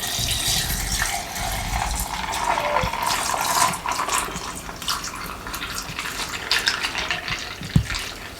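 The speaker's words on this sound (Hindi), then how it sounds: "अब इस टाइम पे हम इसके अंदर दूध शामिल करेंगे" Cold milk pours steadily into a sago tapioca dessert for Ramadan iftar, a continuous close splashing stream with one small knock near the end and no speech.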